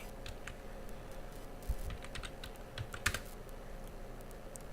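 Faint, scattered keystrokes on a computer keyboard as a password is entered, a few sharper clicks standing out over a steady low hum with no voices.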